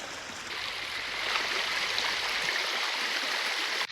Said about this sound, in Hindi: जसपुर में आपको बता दें कि लगातार जो नदी है वो अपने उफान पर देखने को मिल रही है।